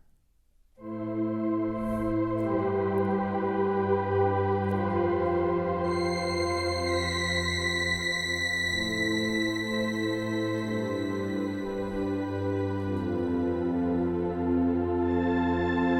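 A lush, sustained Omnisphere 2 synthesizer pad with shimmering high overtones, swelling in and holding steady as chords shift slowly beneath, with no voices.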